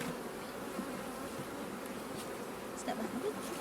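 Bees from a very small hive buzzing steadily and close by, a dense continuous drone with a few louder passes near the end.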